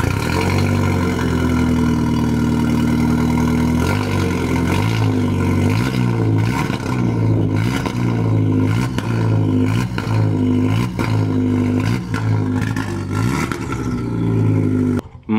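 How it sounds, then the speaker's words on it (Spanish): A loud 1.8T car engine without an exhaust, idling roughly and then revving repeatedly in rapid bursts, harsh and close. "esto hay que probarlo a ver cómo suena sin escape el coche"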